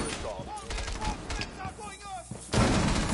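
Gunfire in a PS4 shooter game, several sharp shots and quick bursts mixed with voices talking over them, ending in a louder blast.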